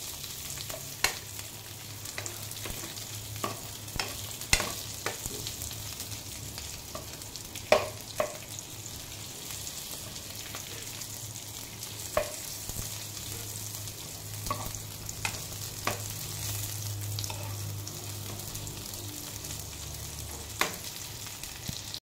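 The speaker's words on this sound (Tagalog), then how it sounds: "I-fry lang natin siyang konti." Sliced yellow onions frying in a pan for tofu steak, a steady low sizzle with occasional stirring clicks and scrapes, close by and with no talk.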